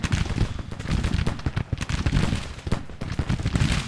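Massed troops firing rifles in a Civil War battle in Grand Tactician, a dense, rolling crackle of overlapping musket shots filling the whole span loudly.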